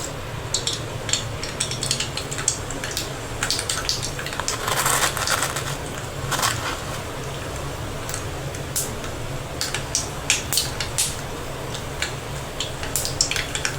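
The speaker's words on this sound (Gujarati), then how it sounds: "રાઈ તતડી ગઈ છે" Mustard seeds crackle in hot oil while tempering a Gujarati potato curry, giving many sharp, irregular pops and ticks over a low steady sizzle, close up, with no talking.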